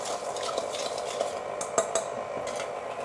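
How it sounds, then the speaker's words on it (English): Yeast, sugar and water are stirred together in a bowl, giving soft, quiet scraping and light clinks of a utensil against the bowl in an irregular rhythm. "The yeast goes in, and then the sugar goes in. Mixing it all together."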